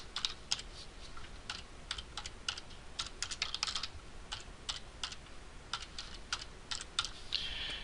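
A computer keyboard being typed on in a quiet room, light irregular clicking keystrokes in bursts, faint and close, with no voices.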